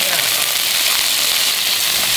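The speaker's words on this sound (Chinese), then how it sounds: "鱼肉给它下锅" Pieces of fish hit hot oil in a pan, and a loud, even frying hiss and crackle runs steadily throughout.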